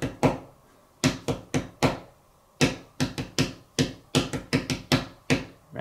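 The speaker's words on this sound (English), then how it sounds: "I can clap this for you." Hand claps tap out a simple rhythm in three-four time, a series of sharp, close claps in groups with short pauses between them, and no talking.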